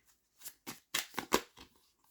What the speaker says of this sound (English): we'll shuffle the same deck